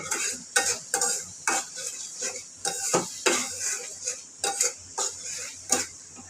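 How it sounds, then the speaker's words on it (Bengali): Prawns stirred in a hot pan of cooked-down spice paste: a rhythmic run of spatula scrapes and metallic knocks against the pan, roughly one every half second, over a close, steady sizzle. "এখন আমি চিংড়ি মাছ দিয়ে দিলাম"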